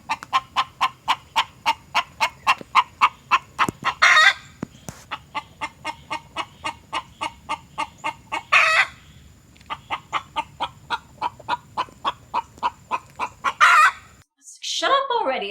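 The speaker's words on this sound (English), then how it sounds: "They are very obnoxiously vocal. Just, yap, yap, yap with the clucks." Hens cluck loudly and insistently in quick, rhythmic bursts, broken every few seconds by louder squawking calls, close up with no talk.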